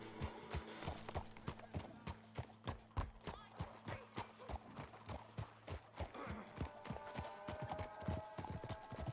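Horse hooves gallop in Red Dead Redemption 2, a fast, steady run of close, loud clip-clops lasting the whole stretch, with a low hum under it and no talking.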